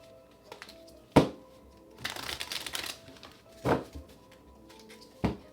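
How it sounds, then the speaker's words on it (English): Tarot cards being shuffled in a quiet room: a few sharp riffle snaps spaced apart, with one longer rustling stretch in the middle, fairly close and soft. "Last shuffle."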